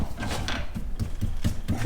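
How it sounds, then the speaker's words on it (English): An inshave is clamped into a vise with a quick series of close metallic ratcheting clicks and clunks, irregular in rhythm, with no talking. "What I do is I clamp it in a vise right here."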